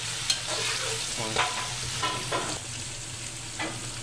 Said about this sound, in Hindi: अभी हम इसमें अदरक लहसुन का पेस्ट डालते हैं। 10 मिनट अच्छी तरीके से भूनते हैं।